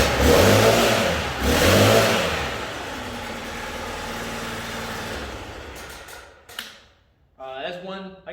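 A Stihl BR800 C Magnum backpack blower roars at full throttle close by, surging twice before settling into a steady high drone, then cutting off as a voice speaks.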